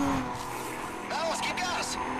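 Race car engine and tire noise from the video game Need for Speed Carbon, a steady roar with brief squealing sweeps, running continuously under German-speaking players' talk.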